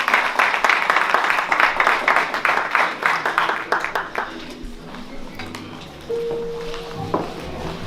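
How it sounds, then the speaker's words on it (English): An audience at an MLK tribute jazz concert claps for Brother Omar, a dense burst of applause that fades after a few seconds into room noise, a brief tone and scattered movement. "give him a big, wonderful round of applause"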